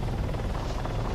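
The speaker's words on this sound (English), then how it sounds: "Do you want to follow the helicopter or let it go, or stay here?" Helicopter in the video game Bad Boys: San Antero Beat, a steady, loud rotor drone with continuous engine whine filling the moment, no voices over it.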